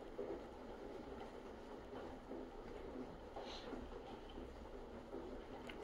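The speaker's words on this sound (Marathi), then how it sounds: "ट्रेन बघा किती हळूहळू झाली, स्मूथ स्मूथ स्मूथ." A train rolls slowly and smoothly, giving a low, even rumble heard from inside with faint rattles and no distinct clacking; quiet throughout.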